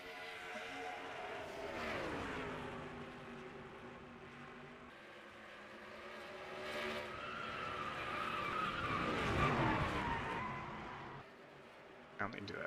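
Race car sliding and skidding after losing control in NASCAR Racing 2003 at Chicagoland, engine droning with a long tire scrub that swells near the end, under steady commentary talk.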